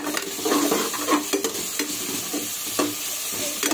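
Chopped tomatoes with salt sauté in a hot pan for a rice-and-lentil dish, a soft continuous sizzle punctuated by repeated scraping strokes of a spoon stirring, close and clear with no talking.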